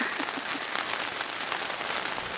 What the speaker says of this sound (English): We're semi-successful packing everything up in a complete downpour up here.